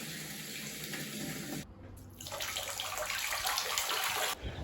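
Water runs steadily into a gutter and pours down into a rainwater tank outdoors, a continuous close hiss and splash that briefly drops off before resuming louder and fuller.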